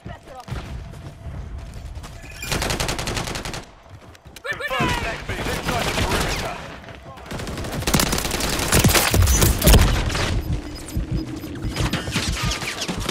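Rapid automatic gunfire from a Striker shotgun in Modern Warfare 3 on the Rust map, loud sustained bursts with short pauses and mechanical clicks in between.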